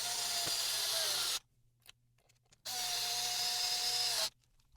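Power driver tightening screws during final assembly of a StewMac guitar kit, two loud sustained whirring bursts of about a second and a half each, separated by a short pause with small clicks.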